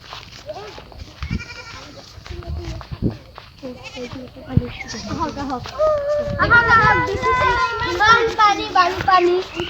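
A person talks at first, then two goats nearby at a quiet village temple break into repeated loud, quavering bleats that fill the rest of the moment.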